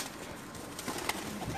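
Pigeons coo in a brief, steady murmur of several birds kept by Pakistani fanciers, close and moderately loud with soft throaty pulses.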